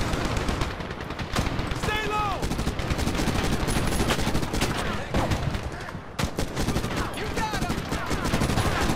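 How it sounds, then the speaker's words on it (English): Continuous machine gun fire in the Medal of Honor video game, loud and close, with rapid rattling bursts running almost unbroken and brief pauses between strings of shots. "I'm just shooting the machine gun"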